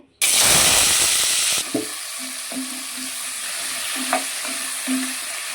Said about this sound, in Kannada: ಅದೇ ಎಣ್ಣೆಗೆ ನಾನಿವಾಗ ಹಾಗಲಕಾಯಿಯನ್ನು ಹಾಕ್ಕೊಳ್ತಿದ್ದೇನೆ